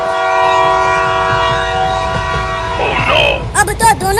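A cartoon train approaching, its horn sounding as a loud sustained chord that bends near the end before a rush of sharp rattling and clanking takes over.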